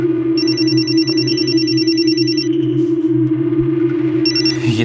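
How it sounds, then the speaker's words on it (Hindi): A telephone rings in repeated electronic bursts, two long trilling rings separated by a pause, loud over a steady low hum in a quiet room, with no talking. "ये दोपहर से चौथी बार फोन कर रही है स्वाति यार।"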